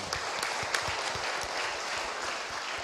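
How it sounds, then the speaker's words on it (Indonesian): Steady applause from a crowd, dense clapping that holds at an even level throughout. "Tepuk tangan, tepuk tangan."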